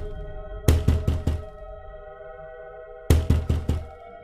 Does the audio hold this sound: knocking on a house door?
yes